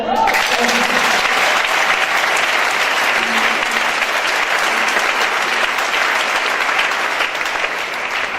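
A church congregation applauding loudly and steadily, a dense, even wash of many hands clapping at close range that holds for the whole stretch without letting up.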